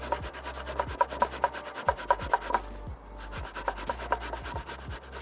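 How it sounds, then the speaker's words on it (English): A quartered pear rubbed over the small side of a hand grater, giving a steady series of short rasping strokes in a regular back-and-forth rhythm, close and moderately loud, with a brief pause partway through. "I'm just gonna grate this pear in."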